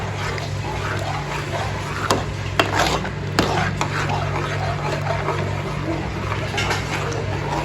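Mashed potato, cauliflower and capsicum are stirred in a pan, giving a continuous rough scraping and rubbing with a few sharper taps of the spoon against the pan, over a steady low hum.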